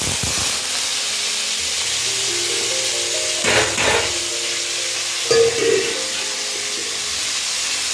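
Carrots sizzle as they fry in a pan, a steady broadband hiss that runs the whole time, with a few louder bursts of stirring and clatter partway through.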